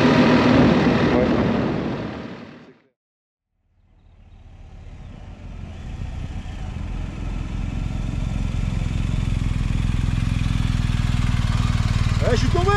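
An off-road BMW R1300 GS motorcycle engine on a trail loop in Andorra runs loud and close, drops to near silence for about a second, then swells back in and holds steady under wind noise and occasional voices.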